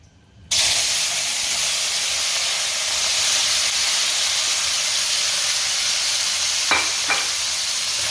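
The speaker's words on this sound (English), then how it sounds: "we have our fish cake and fish balls here. We're going to give a fry first." Fish cake and fish balls drop into hot oil in a pan for mee goreng mamak and set off a sudden, loud, steady sizzle that holds throughout, with a couple of faint clinks partway through.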